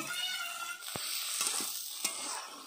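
Chicken and spices sizzle loudly in a pan, a bright continuous crackle broken by a few sharp scraping stirs, close and with no voices.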